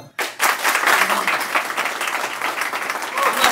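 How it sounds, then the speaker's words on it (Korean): Applause from the group at a Korean wrestling seminar honouring a legendary wrestler, a dense burst of clapping that starts abruptly and holds steady and fairly loud with no talk. "다시 한번 박수"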